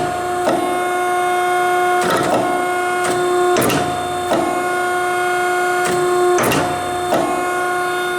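A Neff D4-5M down-acting C-frame bench hydraulic press, its motor and pump humming with a steady tone, punctuated by repeated clunks and hissing surges as the press cycles and reverses, close and loud.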